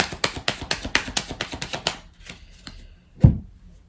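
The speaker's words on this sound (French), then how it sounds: "Tirage en 9 cartes avec les Gilded Rêveries" Gilded Reveries oracle cards riffle-shuffled in a fast, even run of crisp snapping flutters, then a few softer card slides and a single louder thud as a card is set down, close and alone.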